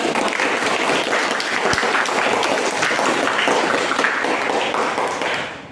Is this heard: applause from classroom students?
yes